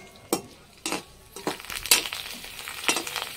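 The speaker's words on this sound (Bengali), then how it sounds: "তেল গরম হয়ে গেছে, এবার কিছু পাঁপড় ছেড়ে দিলাম।" Sago papad dropped into hot mustard oil in a home kitchen sizzles softly, with several sharp bursts of crackling and utensil clinks spaced about half a second apart.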